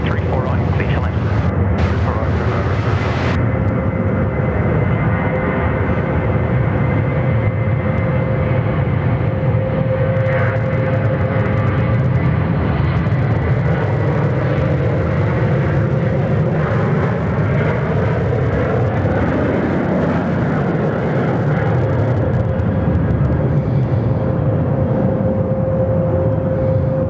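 A Rex airliner lands on runway 34 right at Sydney Airport, a loud sustained engine roar with a steady whine that bends in pitch as it passes, while voices talk throughout.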